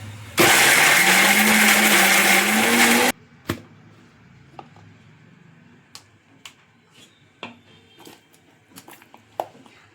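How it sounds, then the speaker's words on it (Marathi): A kitchen mixer grinder whirs loudly for about three seconds while grinding spice masala, then stops abruptly, followed by scattered clicks and knocks of handling the jar in a quiet room. "आता आपला मसाला आपण मिक्सरमध्ये वाटून घ्यायचा आहे"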